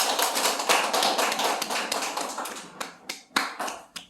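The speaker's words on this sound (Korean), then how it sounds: "다시 한번 뜨거운 박수 감사합니다." Audience applause after a sermon in a church hall, dense clapping from many hands that thins in the last second into a few separate, louder claps.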